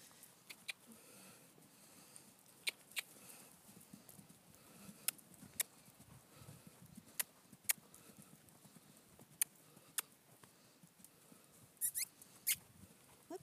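A horse loping in a round pen gives scattered, sharp hoofbeats, fairly faint and spaced irregularly over a quiet background.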